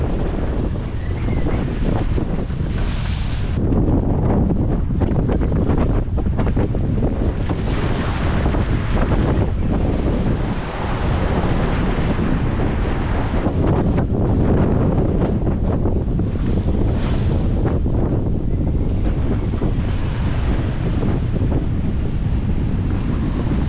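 Storm wind roars and buffets the microphone aboard a sailboat running under a small staysail at about nine knots through monstrous Atlantic waves, with loud continuous surging water and gusts.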